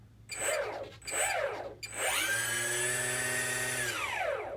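Electric motor on an LX Models Super B-25 RC plane whines up in two short bursts, then holds a steady, loud, tonal whir at partial throttle for about two seconds before spooling down. No talking.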